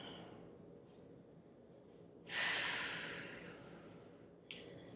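One slow breath during a yoga stretch, a loud close exhale rushing out over several seconds, then a faint start of the next breath in a quiet room.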